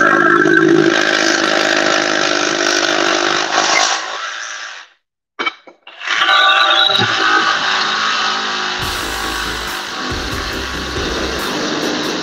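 FLEX jigsaw cutting: a loud, close, steady high-pitched motor whine and blade rasp that cuts out briefly near the middle, restarts at full speed, then winds down into quieter rattling.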